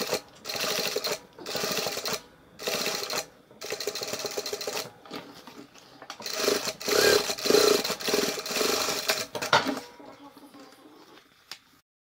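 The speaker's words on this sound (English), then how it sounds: "Then take it to the machine and sew along the curved and bottom lines." Sewing machine stitching fabric pieces for remade Converse shoes, several loud bursts of rapid mechanical whirring with short pauses between them, tapering off into quiet handling noises at the end.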